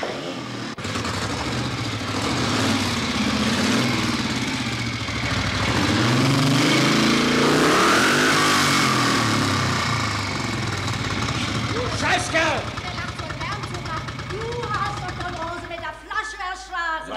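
A motor engine runs steadily throughout, droning under loud overlapping shouting voices, with some clattering toward the end.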